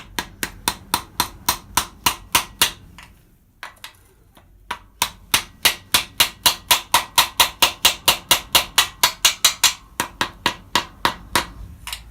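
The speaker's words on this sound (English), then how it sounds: "I'm just going to tap it in very gently so it goes into position with a socket" A hammer taps a socket to drive a part into position on a VW T25 campervan, with dozens of evenly spaced sharp metallic knocks, a brief pause, then a faster run of taps, loud and close.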